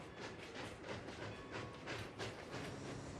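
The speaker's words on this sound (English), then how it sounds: "The Rio Grande narrow gauge mogul trundles over a high trestle bridge with a short freight." A plastic O-scale model of a Rio Grande narrow gauge mogul locomotive hauls a short freight over a high trestle bridge, giving a soft, steady rolling rumble with faint repeated clicking, quiet and continuous.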